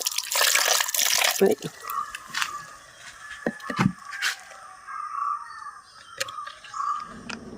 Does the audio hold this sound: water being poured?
yes